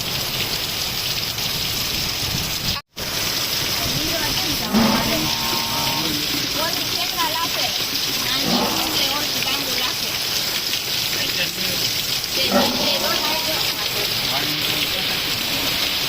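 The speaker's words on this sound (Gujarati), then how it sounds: "ઘડીક વારમાં કાંઈ નહોતું ને ઘડીક વારમાં અત્યારે સોટી જ પીડ્યો વરસાદ" Heavy rain with hail pours in Palitana in a dense, constant roar while a person talks over it at intervals; a brief dropout cuts the sound near the start.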